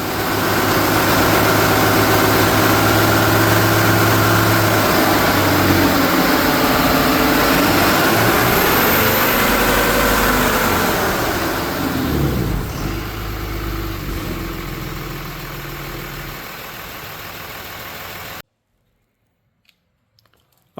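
A 2013 Ram 2500 pickup with a 6.7L Cummins diesel running a high-output Aisin calibration roars loudly and steadily on a dyno, its pitch climbing and falling through the pull before cutting off abruptly into near silence.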